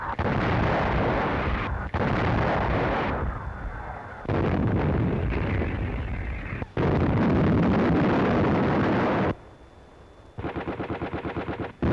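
Artillery guns firing a barrage on a battlefield as American troops advance in Germany, heavy booming blasts and rolling gunfire in several long loud bursts separated by short gaps.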